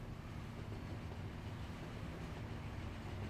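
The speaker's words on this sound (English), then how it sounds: "I can hear a train." A train in a railway simulation game passes as a quiet, steady low rumble with a faint mechanical drone, constant throughout with no talk.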